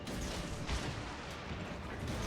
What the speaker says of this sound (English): Just hitting him with the back cannon.